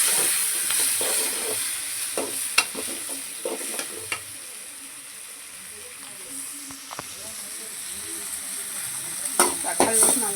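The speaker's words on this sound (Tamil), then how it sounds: "தக்காளி வச்சு நல்லா வணக்கணும்" Tomatoes sizzle as they are sautéed in a pan for a Tamil ridge gourd kuzhambu, a steady frying hiss under intermittent spoon scrapes and clinks, close by.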